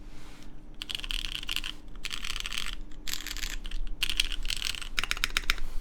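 Rapid bursts of crisp, clacky typing on a Cafege Horangi60 mechanical keyboard with MX switches, close up, pausing briefly between runs of keystrokes.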